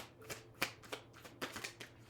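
Tarot cards shuffled by hand in quiet close-up, a series of quick riffling bursts and soft slaps, about six distinct flurries in two seconds at low volume.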